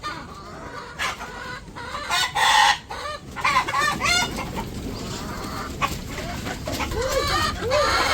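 Village chickens at evening feeding time, several birds clucking and squawking close by in overlapping bursts, with brief louder calls over a steady outdoor background.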